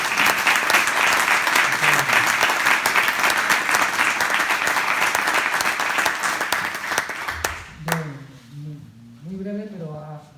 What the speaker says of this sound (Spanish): un aplauso primero ahí